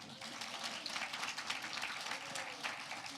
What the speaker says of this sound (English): I'd like to give her a round of applause for that